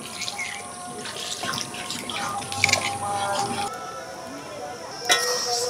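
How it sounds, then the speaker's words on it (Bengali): Water being poured into simmering cooked lentils with spices in a pan, a light splashing trickle with small clinks of a utensil, fairly close. "এবার আমি জল দিয়ে দিচ্ছি"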